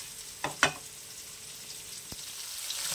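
Pieces of katla fish coated in chilli powder fry in hot oil with a soft, low sizzle, broken by a couple of sharp crackling pops early on and a faint hiss that builds toward the end.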